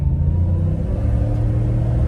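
Roush supercharged 5.0 V8 in a 2023 Ford F-150 under throttle from inside the cab, a loud, steady deep engine drone with a strong low-end rumble and no voices.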